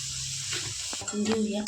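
Mustard seeds and turmeric hit hot oil for vada pav potato filling, giving a steady close hiss of sizzling that swells near the end, with a voice briefly audible over it.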